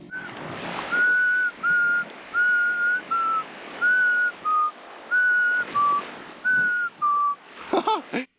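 A person whistling to call hermit crabs out of their shells on a deserted tropical island, with about ten short, clear, near whistled notes in an even rhythm over faint wind and surf.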